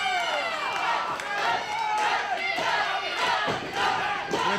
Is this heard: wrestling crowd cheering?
yes